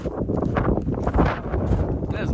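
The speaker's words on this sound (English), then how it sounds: "It's windy up here." Strong wind gusts rush across the microphone up on a hillside near an old abandoned building, a rough steady roar with uneven bursts and a voice briefly over it.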